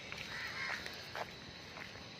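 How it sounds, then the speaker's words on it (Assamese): Crows caw during an evening walk along a road in Pune, a handful of separate harsh calls rising above steady outdoor background noise. "কাউৰী ইমান আছে ইয়াত"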